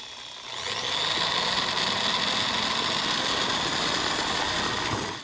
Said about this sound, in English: I'm gonna get a 2mm bit and drill those holes out